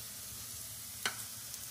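Mushroom pakoras fry in hot oil, a faint, steady sizzle with one brief sharp pop partway through.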